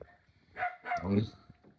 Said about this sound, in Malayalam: പട്ടി കിടന്ന് ഭയങ്കര കുരയാണ്